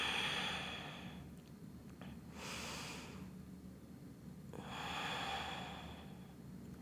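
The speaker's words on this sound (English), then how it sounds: "And breathe." Deep yoga breathing held in bridge pose: airy, hushed inhales and exhales in a slow rhythm with quiet pauses between them, close up and gentle, no voices.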